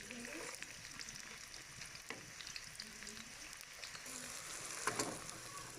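Onions frying in melted ghee give a soft, steady sizzle and crackle with light stirring scrapes, faint and close.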